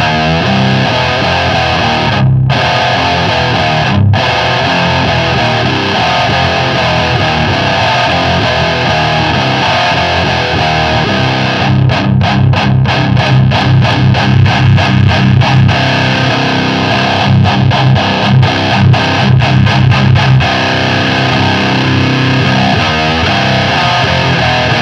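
A loud electric guitar through a boutique rock distortion pedal plays sustained, saturated chords, then a burst of fast palm-muted chugging, close and dense with no speech over it.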